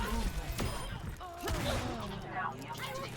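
Ashe's B.O.B. firing in Overwatch 2, a rapid burst of gunfire shots with sharp transients mixed with game effects and a person talking over it.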